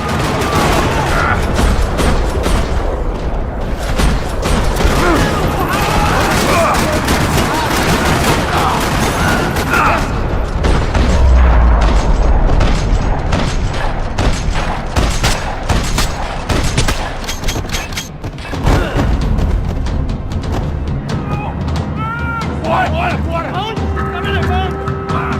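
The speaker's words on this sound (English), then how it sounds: "Another parking lot rattling with gunfire." Dense rattling gunfire in a parking lot during a Max Payne game, loud and continuous bursts mixed with booms and action sounds, with a voice speaking over it.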